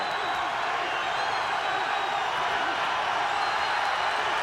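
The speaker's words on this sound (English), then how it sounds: "Crowd loves it in the MGM Grand" A boxing crowd at the MGM Grand in Las Vegas, at a Jesus Chavez vs Erik Morales fight, sends up a continuous broad roar of cheering that holds steady and loud throughout.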